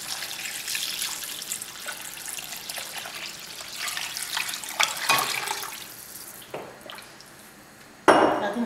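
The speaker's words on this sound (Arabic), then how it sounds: "غادي نديرو الماء" Water poured into a cooking pot while making chicken rfissa, a steady close splashing and trickling with some clinks of metal, easing off before a sudden louder gush near the end.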